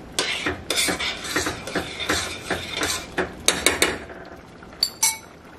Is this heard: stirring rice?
yes